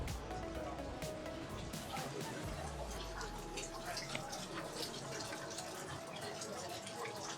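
Water running in a stone fountain in Dubrovnik Old Town, a continuous splashing trickle heard at close range, with steady outdoor ambience and a brief low rumble partway through.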